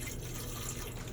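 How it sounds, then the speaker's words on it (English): Spring water is poured onto sea moss in a blender jar, a soft, steady trickle and splash of liquid with no talk. "add some water, some spring water,"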